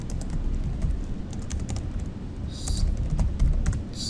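Fast computer keyboard typing, close up, with a constant low hum underneath and a few higher clicks later on.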